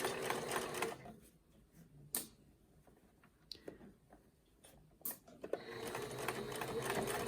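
A sewing machine runs a tight, narrow zigzag stitch over the edge of fabric binding on a face mask. Quick, rattling stitching bursts open and close the clip, with a quieter pause and a few soft clicks in between.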